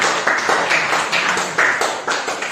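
Classroom applause for a student group in a ninth-grade lesson, a run of brisk, uneven hand claps close by, rising in bursts over a couple of seconds with little talk.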